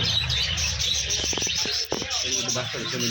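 Chattering chirps and warbles from several budgerigars, adults and chicks, close by and busy, with a voice speaking faintly in the background.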